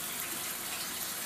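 Tap water gushing steadily into a funnel, a dense continuous rush that stays loud and close throughout with no voices.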